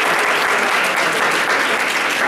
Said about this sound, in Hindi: प्लीज ताली बजाइए।